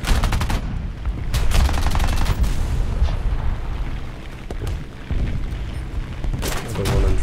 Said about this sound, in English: Another one in front shooting at us.